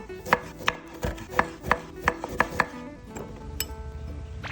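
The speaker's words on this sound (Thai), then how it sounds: "หั่นมะนาว" A knife slices lime on a cutting board while a Thai spicy salad is made, with a quick run of sharp, close chops followed by softer knocks and handling as the cutting tapers off.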